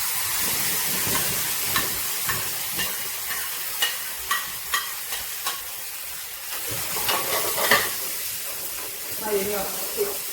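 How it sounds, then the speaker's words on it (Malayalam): Tomato chutney poured into a hot pan on a low flame, a soft steady sizzle with intermittent clinks and stirring scrapes, while someone talks over it. "തീ വളരെ ഫ്ലെയിം കുറച്ച് വെച്ചതിന് ശേഷം ഈ ചട്നി ഒഴിച്ച് കൊടുക്കാം"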